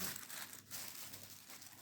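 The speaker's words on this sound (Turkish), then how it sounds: "Çıkardım şöyle poşetini alıyorum" An oven roasting bag is pulled off a whole chicken baked with vegetables at 200 degrees, giving a close, continuous plastic crinkling and rustling that runs steadily throughout with no voices.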